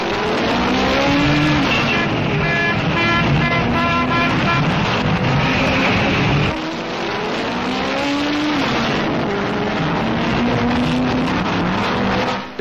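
Ford and works Bugatti sports cars roar away together at the start of the 1929 Tourist Trophy race, several engines revving loudly and rising in pitch as they accelerate, briefly dipping midway before surging again.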